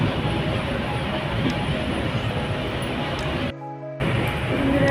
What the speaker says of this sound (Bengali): দেখুন বসে আছি ট্রেনে ট্রেন ছেড়ে দিয়েছে